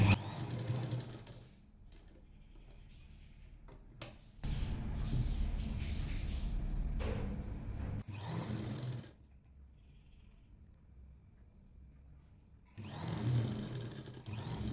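A sewing machine stitches the front V-neck of a lined kurti in two steady runs, a longer whirring stretch and a shorter closing burst, separated by quiet pauses and close to the listener.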